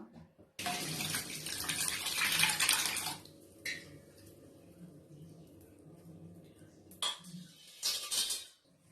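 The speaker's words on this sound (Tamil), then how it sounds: "இப்போ இந்த தண்ணியை நல்லா சுத்தமா வடிகட்டிடலாம்." Water being drained off washed goat intestines, with a loud gushing pour for a few seconds, then quieter trickles and brief splashes, and a couple of short renewed pours near the end; faint low murmurs underneath.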